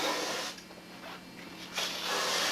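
Steady broadband hiss of a spray gun spraying paint, broken by a short pause near the middle before the spraying resumes, close and continuous.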